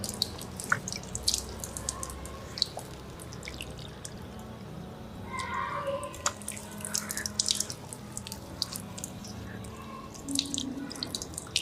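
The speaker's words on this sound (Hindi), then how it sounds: "ऐसे चुल्लू में पानी लेंगे दोनों हाथों से और आहिस्ता से ये हाथ पूरे चेहरे पर फेरेंगे" Water splashing and dripping during ablution, water scooped in both hands and poured over the face, soft intermittent splashes and drips with a brief running pour, close and quiet.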